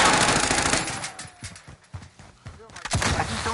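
Gunfire in a video game, several sharp shots fired in quick bursts against a busy, noisy background.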